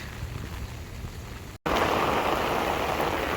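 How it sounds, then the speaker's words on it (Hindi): Steady hiss of heavy rain drumming on an umbrella overhead, suddenly much louder after a brief cut, a dense, continuous patter close to the listener. "ऊपर मेरी छतरी पे आवाज़ सुने ज़रा बारिश की।"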